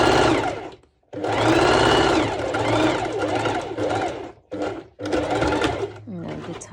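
A sewing machine stitches close to the edge of mesh fabric in a sporty top, running in steady loud bursts with brief stops between runs.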